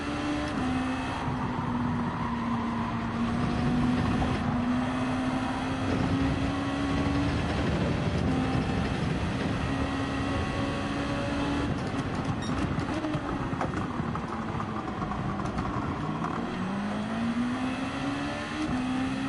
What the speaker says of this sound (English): Christ almighty, that GTR is so noisy.